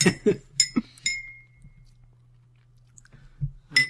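A spoon clinks sharply against a glass a few quick times while stirring sugar into a drink, then goes quiet, with some chewing close by.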